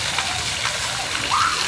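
Steady rushing and splashing water fills a bathing area where people are washing up, a continuous close wash of sound with voices talking faintly underneath.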